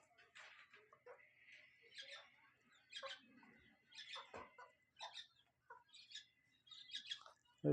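Pigeons call and flutter in short bursts throughout, with chirpy calls from several birds close by and a sudden loud knock at the very end; no one speaks.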